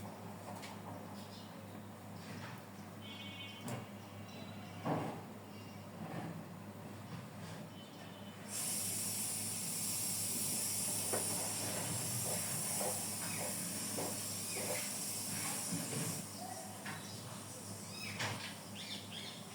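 A burger patty toasting in a pan gives off a steady hiss of sizzling that swells loudly midway for several seconds, then settles back to a softer crackle.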